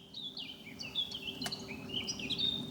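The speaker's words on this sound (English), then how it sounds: "Listen to the bird song." Several birds sing and chirp along a narrowboat canal, bright overlapping high calls at moderate distance over a soft steady outdoor hum.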